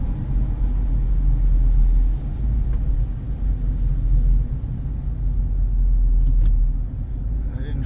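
A 2019 Hyundai Tucson with an ABS problem drives while the brake is applied lightly, giving a steady, loud low road and engine rumble from inside the cabin, with no talking and only faint brief squeaks.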